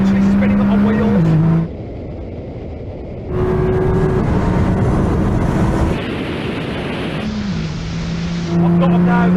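Nissan GT-R, modified Audi R8 and modified McLaren 720S drag racing from a standing start, loud engine roar with rising revs and gear-change steps throughout, heard close up from inside a car with someone talking over it.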